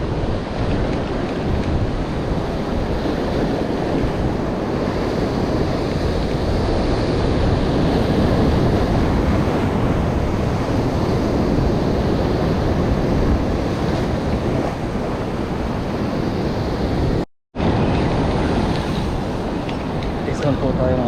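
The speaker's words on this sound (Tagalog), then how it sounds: "Malakas ang alon." Strong ocean surf roars continuously and loudly close by, mixed with heavy wind buffeting the microphone, with a brief dropout near the end.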